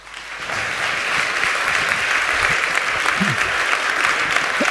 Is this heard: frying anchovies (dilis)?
no